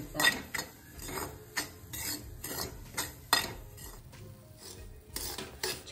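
Semolina roasting in ghee in a pan for sheera, stirred with a spoon that gives repeated scraping and clinking strokes roughly every second, close and clear with no talk.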